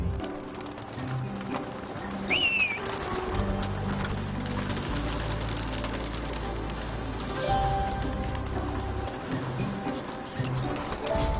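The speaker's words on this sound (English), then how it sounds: "pigeons hover in the sky, creating a lively scene" Pigeons circling over a city at dusk, with soft cooing and a brief bird call over a steady urban hum and low rumbling background, no speech.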